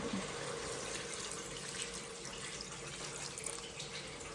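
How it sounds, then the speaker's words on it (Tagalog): Water poured into a cooking pot while a home-style dish is prepared: a continuous, even stream of trickling liquid, fairly quiet and close, with no talking over it. "Tsaka, lagyan ng tubig."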